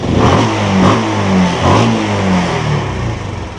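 A Yamaha Spark 135 motorcycle on its stock exhaust, fitted with an R15 carburettor, revs up close and loud in several quick rising bursts over a rough idle.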